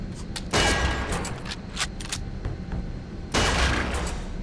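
Gunshots at a shooting range in the 2005 game Area 51, a few sharp bursts of fire with loud blasts near the start and end and smaller shots between.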